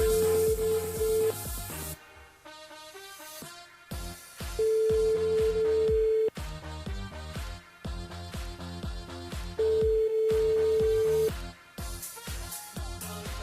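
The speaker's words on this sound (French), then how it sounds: "Et là on appelle Karine du côté de Brapanon." Telephone dialing and ringing tones on a radio call-in show sound in repeated bursts, with long steady tones alternating with clipped electronic beeps over a dense music-like background.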